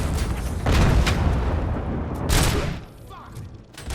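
Gunfire from the video game RoboCop: Rogue City, with loud repeated shots in bursts around the first second and again near two and a half seconds, set against a dense, busy game soundscape.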